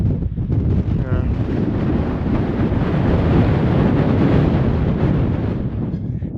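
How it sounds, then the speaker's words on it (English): Strong wind roars across a microphone high on Mt. Adams during a solo climb, a loud, continuous buffeting rush that holds steady for the whole stretch with no break. "it's really windy."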